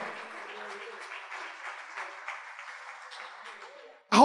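Scattered clapping and applause from a church worship service congregation patters on, fairly faint, then a loud voice bursts in at the end.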